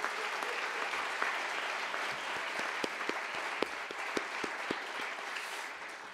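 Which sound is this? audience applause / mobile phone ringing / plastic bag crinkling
audience applause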